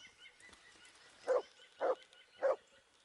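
Three evenly spaced dog barks, short and moderately loud, in the medieval role-playing video game Kingdom Come: Deliverance, with quiet ambience between them.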